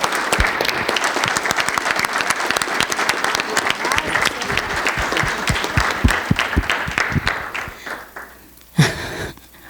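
Applause from a church congregation on a missionary trip in Irapuã Pinheiro, a dense, loud clapping that runs steadily for about eight seconds before thinning out, with a last sharp burst near the end.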